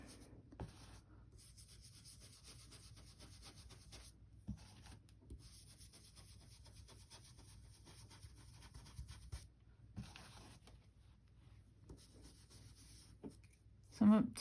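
Black soot Distress Ink rubbed along a paper edge with an applicator, a soft continuous scratchy rubbing that runs quietly through most of the clip, with a louder bump near the end.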